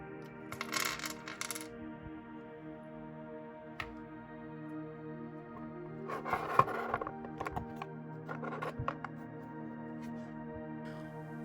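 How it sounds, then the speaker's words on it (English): Small plastic buttons from an Xbox Series X controller dropping off the plastic chassis onto a hard surface, with a brief clatter early on and a louder cluster of light clicks and rattles midway, otherwise quiet. "all the buttons will fall right off with a single flip of the plastic chassis"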